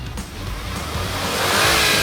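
Non-turbo budget SUV engine revs up with a steady, rising drone that grows louder toward the end, heard up close with no talk over it.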